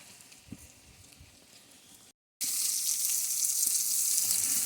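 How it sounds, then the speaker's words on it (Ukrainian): Onion sizzles in a bograch pot, a faint frying crackle that cuts out briefly and then returns as a loud, steady, bright hiss. "До червоненького кинув цибульку, вже цибулька піджарується."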